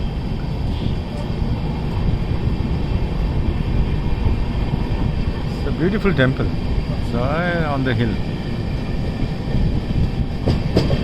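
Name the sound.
train approaching on the railway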